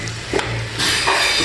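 Sautéed cabbage with pistachios gets stirred in a pot over the heat, giving short scraping strokes over a soft, continuous sizzle, close and clear with no voices.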